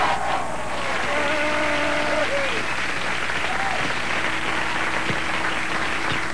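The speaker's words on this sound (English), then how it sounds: "The applause button, Pete. Hit it again, Pete." Canned studio applause played from a late-night talk show's applause button, a broad steady wash of clapping heard at full level throughout with a little tonal background noise.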